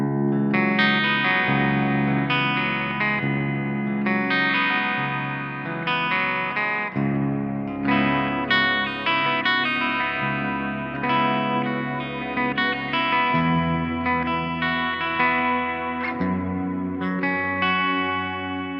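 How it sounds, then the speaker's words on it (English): Electric guitar played through an amp with a Lichtlaerm Audio Untiefe nautical reverb pedal in the effects loop, loud sustained chords and ringing notes with a distorted, wide, echoing tail, no voices. "I've got Lichtlaerm Audio's Untiefe reverb, nautical reverb on top of the amp right now."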